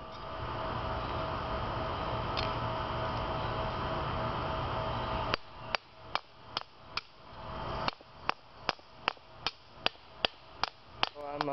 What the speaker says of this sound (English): Been hammering it for a while, and I'm pretty close to being done with the blade part.